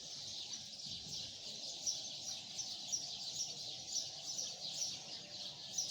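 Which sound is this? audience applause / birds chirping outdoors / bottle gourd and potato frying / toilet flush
birds chirping outdoors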